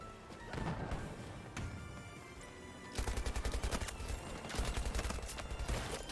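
An M1911 pistol fires in a video game, with repeated close, sharp shots. Dense rapid bursts come in the second half over a busy game soundscape.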